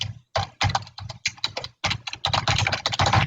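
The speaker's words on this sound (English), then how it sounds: "I'll quickly type that in" Quick typing on a computer keyboard, close and clear, with irregular clusters of keystrokes and short pauses between them.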